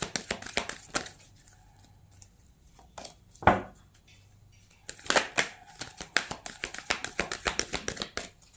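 Tarot cards are shuffled and handled up close, with crisp repeated flicks and taps in irregular bursts, one sharper snap in the middle, fairly quiet with no talking.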